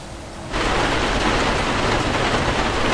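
Steady heavy rain hiss in a truck-driving video game starts suddenly and continues evenly, dense and close, with no voices.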